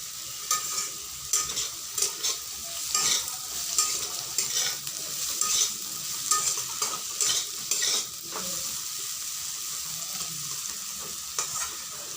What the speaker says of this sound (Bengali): আজকে আমি রসুনের বদলে পেঁয়াজ দিয়ে ভেজে তোমাদের দেখালাম